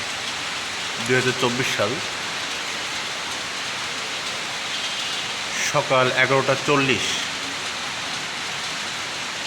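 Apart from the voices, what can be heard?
rain falling in Khulna city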